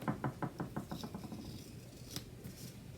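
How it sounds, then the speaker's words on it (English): Scissors snip through a paper planner sticker in a quick run of crisp, rhythmic cuts that slow and soften toward the end, quiet and close with no talking. "And let's just cut the sticker here."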